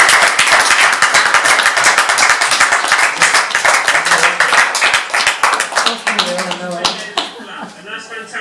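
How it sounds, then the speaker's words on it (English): A group of people claps together in a fast, dense burst of sharp hand claps that thins out toward the end, where voices and cheering take over. "can you all give yourselves a big clap,"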